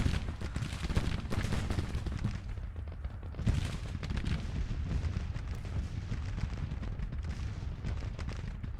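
Distant gunfire and artillery rumble across a Civil War battlefield in the Grand Tactician strategy game, a steady crackle of musketry with deeper booming cannon shots, sustained and fairly faint with no talking.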